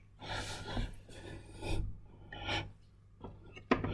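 A knife cuts through fish muscle while filleting, giving several soft rasping strokes of blade on flesh and board, close and quiet, with a small sharp tap near the end.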